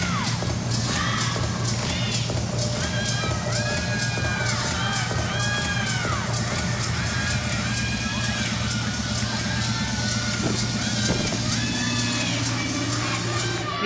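Gymnastics teammates scream and cheer from the sidelines during a college meet, loud and continuous, with a crowd roar and high shrieks sitting over arena noise throughout.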